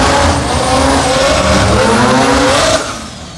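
A Barra-powered Ford Mark 1 Escort tears past at a racing event, its engine howling loud and close with rising revs and gear changes for about three seconds before it drops away.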